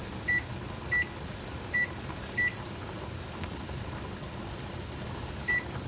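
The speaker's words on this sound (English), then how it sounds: "So I'm just going to go up here and set my timer." Five short electronic beeps from a kitchen timer being set, four in quick succession and one more after a pause, over a steady background hum.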